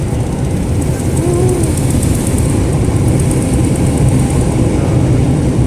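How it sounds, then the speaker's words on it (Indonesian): A loud, steady rumbling drone of a light rail train crossing a nearby bridge over the Musi River in Palembang, with a faint rhythmic clatter under the roar. "Ada suara LRT melintas."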